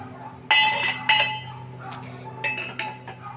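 A spoon clinks and scrapes against a bowl while stirring fried mung lentils mixed with a little baking soda, a few sharp metallic taps close by in a quiet kitchen.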